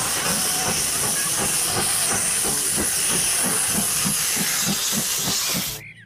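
A Thomas toy train gives off a loud, continuous steam hiss over a steady rhythmic chugging pulse. The sound cuts off abruptly near the end, and no one speaks over it.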